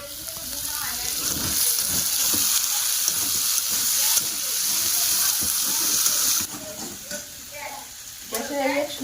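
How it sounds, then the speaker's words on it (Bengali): Potatoes fry in a home kitchen pan on a gas stove, giving a steady broadband sizzle with stirring scrapes and a brief tap-water splash near the end, all close and continuous. "আলু ভাজা বসাই দিলাম"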